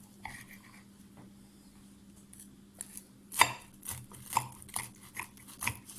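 A knife slices through a crispy potato rösti filled with kaşar cheese and pastırma, giving a run of sharp crunchy crackles and cuts that grow louder in the second half, close up with no talking.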